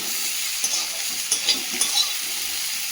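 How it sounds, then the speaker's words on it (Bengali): Yardlong beans frying in a very hot wok give a steady close sizzle, with a few light scrapes and stirring taps, and no talking. "কড়াটা প্রচুর গরম হয়ে, বরবটিটা হালকা ভেজে নিয়েছি, এবার নামিয়ে নেব"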